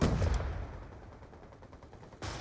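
Gunfire in Black Ops 2, a loud burst at the start followed by a dense rattling decay and another shot near the end, heard alone without talk.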